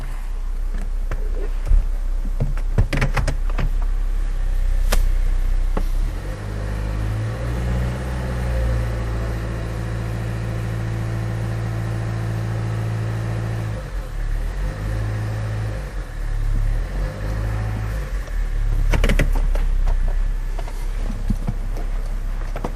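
A car engine fitted with electronic variable valve timing actuators is held under brake torque, a steady low droning hum that swells and rises in pitch in several loud surges, with no talk.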